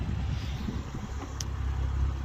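Toyota Supra with a 3.0 turbo engine, a steady low car engine rumble held at an even level throughout, with no talk over it.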